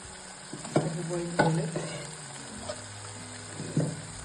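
Mutton fries in oil with spices in a home kitchen, giving a soft steady sizzle broken by a few sharp scrapes and clinks of stirring.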